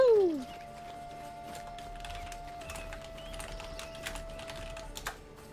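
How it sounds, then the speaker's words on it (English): Typing on a computer keyboard: a steady patter of soft, close key clicks continues for several seconds under a low background hum, with a brief sliding tone at the start. "I was just typing."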